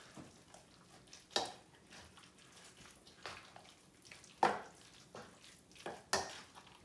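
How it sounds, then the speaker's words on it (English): Meatloaf ingredients get mixed by hand in a bowl, giving faint, soft squishing and stirring sounds in irregular bursts against a quiet kitchen background. "I'm just going to start mixing it now."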